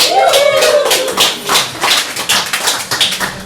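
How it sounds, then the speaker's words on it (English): Small audience at a poetry reading evening in Limerick gives a round of applause, a voice briefly at the start, then distinct, close, fairly loud claps in an uneven pattern from only a few pairs of hands. "I think that's a round of applause moment"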